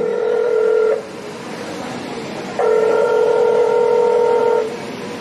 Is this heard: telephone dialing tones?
yes